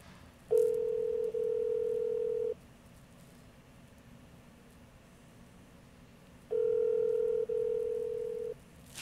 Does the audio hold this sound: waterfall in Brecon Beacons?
no